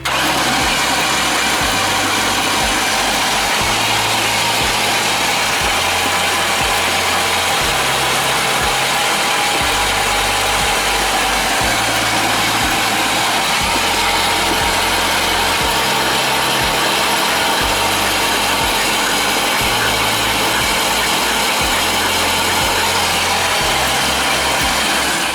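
A 1998 Chevy Vortec engine, left unrun for ten years, cranks over steadily on the starter with a loud, rhythmic churning pulse and a constant mechanical whir, close up and sustained without catching.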